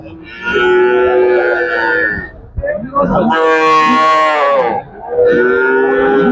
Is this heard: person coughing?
no